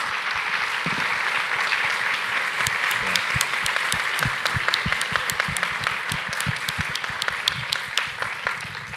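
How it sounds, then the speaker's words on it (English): Lecture audience applauding steadily, a full even wash of many hands clapping with a few sharper individual claps standing out, sustained throughout. "let's give everyone a warm round of applause"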